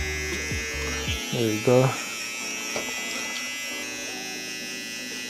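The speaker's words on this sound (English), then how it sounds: "Go back to the trimmer so we can make the definition a little bit better." An electric hair trimmer buzzes steadily in the background throughout a haircut, a constant mechanical hum under a man's brief speech.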